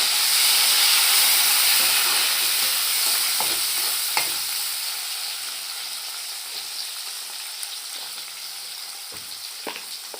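Meat sizzling and frying in a pan for kacchi biryani, a loud steady hiss with occasional stirring clatters, close up and without talk.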